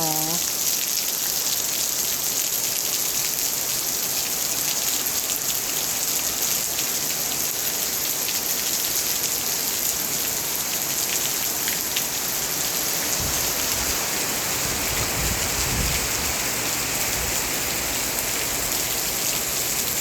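Steady rain pours down continuously, a dense hiss of drops on surfaces with no pauses from start to finish.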